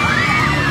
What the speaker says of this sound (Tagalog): Sigawan yung mga fans mga boss ni Zaira.